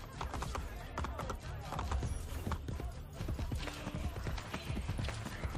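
Horse hooves galloping with a steady clip-clop rhythm under Ezio in Assassin's Creed Brotherhood, close and continuous over faint game ambience for several seconds.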